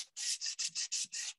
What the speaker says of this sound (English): How quickly that sands.